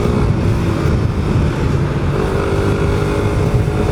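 A Suzuki Satria Pro motorcycle is ridden and revved through its gears, with a loud, steady, close engine roar that holds throughout and no voices over it.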